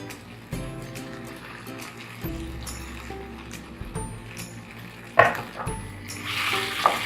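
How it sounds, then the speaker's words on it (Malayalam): Sliced tomato drops into a pan of sizzling masala for masala quail, a soft hiss with scraping and clinks of a spoon in the pan, louder bursts near the end. "ഇനി നമുക്കിതിലേക്ക് ഒരു ചെറിയ തക്കാളി ഒന്ന് നീളത്തിൽ അരിഞ്ഞത് ഇതിലേക്ക് ചേർത്ത് കൊടുക്കാം."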